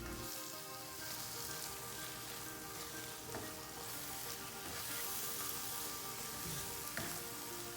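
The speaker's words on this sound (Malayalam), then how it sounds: "അരച്ച് വെച്ചിട്ടുള്ള ചെറിയുള്ളിയും വെളുത്തുള്ളിയും വറ്റൽമുളകും കൂടിയുള്ള പേസ്റ്റും കൂടെ ചേർത്ത് നന്നായിട്ടൊന്ന് വഴറ്റിയെടുക്കുക." Paste of ground shallots, garlic and dried red chilies sautéing in hot oil in a pan for Kerala prawn pickle, giving a steady, dense close-up sizzle with faint crackles and occasional stirring scrapes, no voices.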